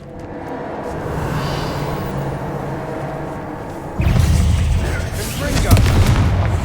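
A Bombarda explosion spell goes off in the video game Hogwarts Legacy: a sudden loud blast at the midpoint opens into dense, rumbling debris noise over a steady bed of game ambience.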